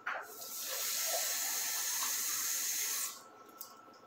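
Half a liter of water pours into a container while making a homemade baking-soda cleaner, a loud, steady splashing hiss for about three seconds that stops abruptly, followed by a few small clinks.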